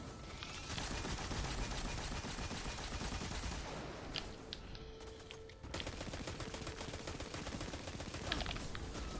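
Gunfire from the video game Destiny 2: Forsaken crackles in dense, continuous bursts with a brief lull partway through, faint and steady in the game mix.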